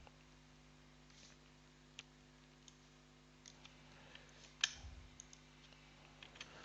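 A single soft computer mouse click lands amid faint scattered ticks and light desk noise, quiet and close, over a low steady electrical hum.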